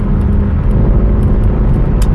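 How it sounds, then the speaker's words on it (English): A Mercedes W204 C63 AMG driving, its engine a loud, steady low rumble that holds throughout at close range with no talk over it. "let's listen to the car because it sounds much better than I do"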